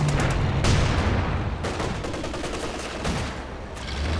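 Machine gun firing in the real-time strategy game Company of Heroes 2 during a 2v2 match, sustained rattling bursts with several sharp louder shots amid battle noise.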